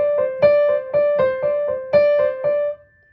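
A quick run of repeated piano notes in a steady rhythm, about a dozen light strikes in a few seconds, a finger exercise played close and clear with no talking.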